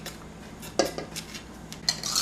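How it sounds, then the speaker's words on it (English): Batter being whisked in a bowl, quiet clinks and scrapes of a metal whisk against the bowl with a couple of sharper taps, close up and without talk. "and whisk it all in"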